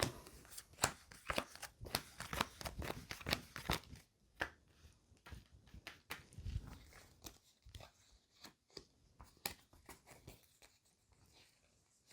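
A deck of playing cards being handled, shuffled and laid out close up, with dense papery riffles and snaps at first, then sparser slaps and flicks as cards are placed down one by one.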